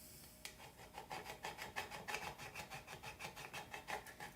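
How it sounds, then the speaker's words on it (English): A scraper tool rubs vinyl and transfer tape onto a tumbler in rhythmic back-and-forth strokes, about eight passes per second-and-a-half, close but faint and without speech. "So we want to do a good job burnishing"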